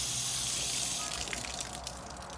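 A servo being dunked into water, water-sealed for a Griffin bucket setup, giving a steady close gush and splash of water throughout with small bubbling bursts toward the end.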